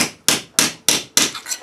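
Four sharp, ringing hammer blows strike sheet metal to stretch it on a shrinker-stretcher, evenly spaced and close, each with a bright metallic decay, with a faster double tap at the end.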